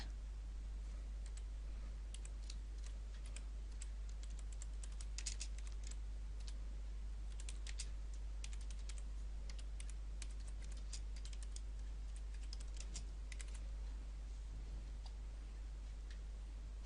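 Steady typing on a computer keyboard while entering a name into a comment box, the key clicks continuous and close, with a low constant hum underneath and no talking.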